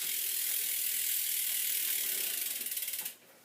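A BMX rear wheel with an Odyssey Hazard Light rim on a loud V3 hub freewheels with a fast, dense, buzzing ratchet click, slowing into separate clicks before stopping.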